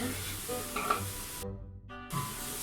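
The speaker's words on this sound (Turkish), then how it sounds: "Güzelce kavuruyoruz soğanımızı" Onions sizzle and crackle in a hot pan, with scraping stirring noises, for stuffed grape leaves in olive oil; the frying pauses briefly midway, then resumes.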